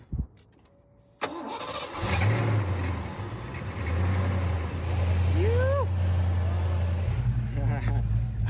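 A Ford Fox body car's engine starting after a water pump repair: a click, a cranking whir, then the engine catches and settles into a rough idle with a revving swell. A voice is heard over it.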